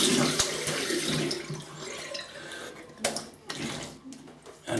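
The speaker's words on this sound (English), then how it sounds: "let me have a little rinse" Tap water runs over a razor being rinsed in a sink, a close rushing stream broken by several sharp splashes and knocks as the blade passes through, with no one speaking.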